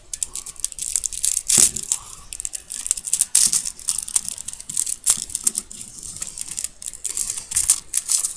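Excess double-sided tape on a foil is cut and pulled away in a run of close, crisp crackles, snips and tearing rustles coming in irregular bursts.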